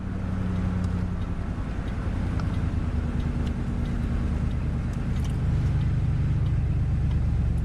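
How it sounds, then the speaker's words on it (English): A wood-powered truck engine runs with a steady, loud, low rumble while the truck pulls farm equipment during haying, continuous throughout with no talk. "he's operating the wood-burning vehicle"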